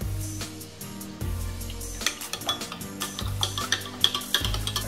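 Corn flour being stirred into two cups of water in a bowl, a steady scraping and clinking of a spoon against the bowl in quick repeated strokes over a low steady background hum.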